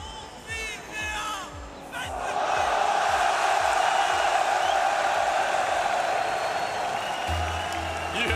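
A home crowd at the 2025 Rocket League World Championship playoffs roars and cheers in a large arena, swelling after a couple of seconds into a sustained loud wall of voices, with a commentator's voice at the start.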